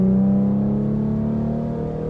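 An Infiniti Q50 fitted with a new exhaust, test pipes not yet installed, revs with a deep, steady engine drone that sits loud and close, easing slightly as the pitch settles over a couple of seconds.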